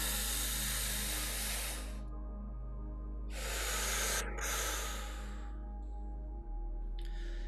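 A long deep breath taken during a guided meditation at a Bali retreat: two broad airy hissing breaths, an inhale and then an exhale, close and fairly quiet over a steady low hum, with a brief third breath starting at the end.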